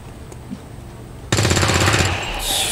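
Machine gun fire in XCOM 2: War of the Chosen, a loud, rapid burst of rattling shots that kicks in suddenly after a quiet stretch and runs to the end, followed by a metallic clatter.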